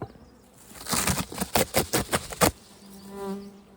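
Bees buzz close by in an opened control hive with few bees, a string of rapid pulsing buzzes in the middle giving way to a softer, steadier drone.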